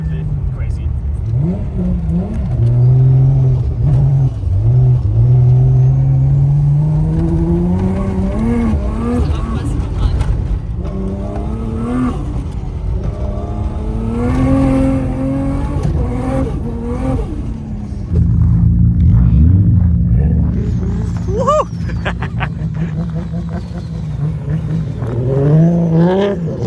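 A Nissan Skyline R32 or R34 GT-R engine revs hard on Arctic streets, loud rising and falling blips and long climbing pulls from close by, with a deep idle rumble between revs.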